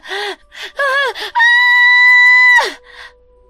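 A young woman screams in a horror tale, first with short wavering cries, then one long, high, sustained scream that ends in a falling gasp, loud and close.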